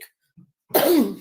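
One short, raspy cough close up after a brief quiet moment.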